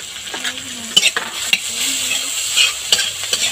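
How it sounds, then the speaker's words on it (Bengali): Ginger garlic paste is stir-fried in a pan, a close steady sizzle broken by scraping stirs and light clacks of a utensil on metal, with no voices. "আদা রসুন বাটাটা ভালো করে মিশিয়ে নেব"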